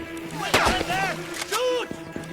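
An RPG rocket launcher fires in the Xbox 360 action game Mercenaries 2: World in Flames, a sharp blast followed by another boom, mixed with game voices and effects, fairly loud and close.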